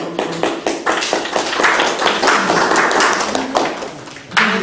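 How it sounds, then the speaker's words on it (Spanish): People at an evening church class clap together, a brisk burst of close individual hand claps that swells into fuller applause and then trails off. "Damos un aplauso"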